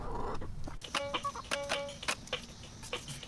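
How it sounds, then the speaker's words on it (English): Chickens cluck in a quick series of short, close calls, several bursts over a few seconds, alone without talk. "these are probably two happy chickens"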